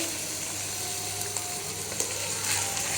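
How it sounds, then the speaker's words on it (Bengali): Steady sizzling of rice frying in a hot pan for chicken biryani, a continuous crackle with a few soft stirring scrapes and no talk. "রাইসটাকে একটু ভেজে নেব সুন্দরভাবে"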